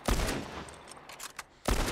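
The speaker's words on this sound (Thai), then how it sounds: "เป็นการยิงที่โคตรแม่น" Gunfire in The Last of Us video game: a loud burst of shots at the start, a quieter stretch with faint clicks, then another loud burst of fire at the end.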